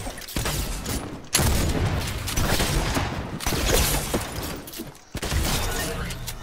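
Shotgun blasts in a Fortnite 1v1 match, loud, booming reports packed close together in a continuous barrage, broken by a couple of short gaps between bursts.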